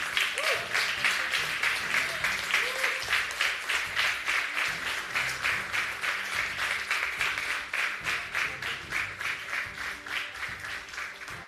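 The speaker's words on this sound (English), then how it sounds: "Round of applause for the three gentlemen." Audience at an open Hungarian sommelier championship applauding the three finalists, steady rhythmic clapping that settles into unison beats, sustained for over ten seconds at close range.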